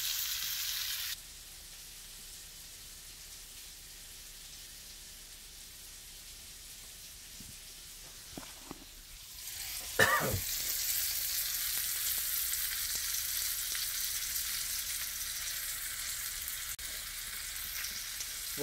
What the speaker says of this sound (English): You want to let them sit in that pan. You want to let them get nice and crisp on the bottom before you turn them.